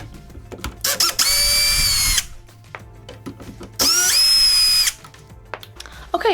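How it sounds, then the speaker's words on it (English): Cordless power drill driving out the two screws of an old doorknob on a door, heard in two loud sustained whirring bursts of about a second each, separated by quiet handling clicks and rattles. "this is the part I like to use the drill for"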